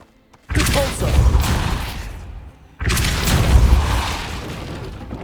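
Depulso force spell cast in the Hogwarts Legacy video game, two heavy booming whooshes a couple of seconds apart, each swelling loudly and then fading.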